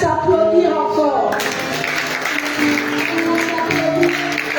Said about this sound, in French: On va s'applaudir encore.